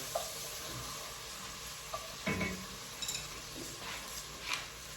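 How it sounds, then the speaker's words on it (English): Smoked bacon sizzles in a pan, its steady frying hiss broken by a few short scraping stirs, faint and close, with no voices. "Lower my bacon a little bit. Give it a little stir."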